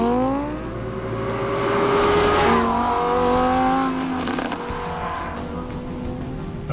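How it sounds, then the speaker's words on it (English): A Lamborghini Huracan supercar drives hard on a race track, its engine rising loudly in pitch as it accelerates past close by, with tyre noise and revving over the roar before it fades slightly. "Lamborghini's latest creation is ready to attack the track"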